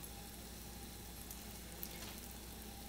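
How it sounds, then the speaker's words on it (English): Pot of pork belly and eggs with star anise at a rolling boil, giving a steady, even bubbling and hiss with no breaks, close and fairly loud, heard alone. "so here we are at a rolling boil"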